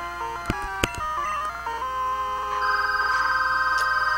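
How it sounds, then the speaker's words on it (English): A telephone rings loudly and alone, close by, with a few sharp clicks at the start and then a steady electronic ringing tone. "That's a phone."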